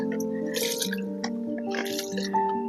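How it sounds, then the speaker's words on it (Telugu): Water poured onto soil in a terrace-garden grow bag where turmeric is growing gives soft wet drips and squishy soaking sounds in short bursts, close by, over a steady background of sustained tones. "కొంచెం వాటరింగ్ చేస్తా,"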